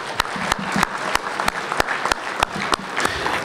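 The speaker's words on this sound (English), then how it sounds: "I also want to give one more round of applause, if you will, for Amy Kowalski and her work with the vide" Audience applause at a keynote of the 2017 Wisconsin Lakes Convention: a bed of crowd clapping with one set of sharp, close, evenly spaced claps punching through it at a brisk, regular rhythm, with no talking.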